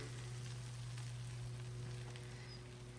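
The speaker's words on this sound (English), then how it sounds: "I've got about 2 tablespoons of butter melted in this cast iron skillet, and I'm gonna add the same amount of flour" Flour added to about two tablespoons of melted butter in a cast iron skillet for a roux, a soft steady sizzle under a constant low electrical hum, close and quiet, with no talking.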